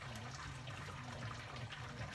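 A lifted grain bag drains wort back into the kettle while brewing a raspberry blonde ale, a faint continuous trickle and splash of liquid with no talking.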